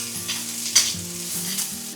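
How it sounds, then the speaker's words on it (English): Onions hit a smoking hot pan and sizzle steadily, with a quick stir scrape partway through and a hum running underneath. "Get that smoking hot, add our onions."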